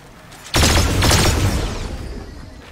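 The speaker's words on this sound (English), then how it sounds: "I heard a gunshot" Burst of video-game gunfire erupts suddenly and keeps going as rapid, loud, overlapping shots with a booming tail, with no voice over it.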